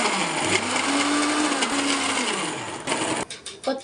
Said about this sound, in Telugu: మిక్సీ